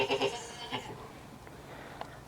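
Cattle call out on a cold, frozen farm during morning chores, several loud, bleating-like moos bunched in the first second, then fading to quiet background with one brief sound near the end.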